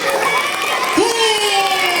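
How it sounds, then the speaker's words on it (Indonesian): Schoolchildren at an elementary school religious commemoration clap and cheer. High, excited voices and whoops mix with the scattered claps in a lively, close crowd. "Tepuk tangan dong buat Kenan."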